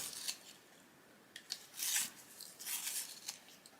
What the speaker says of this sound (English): I need to sharpen it.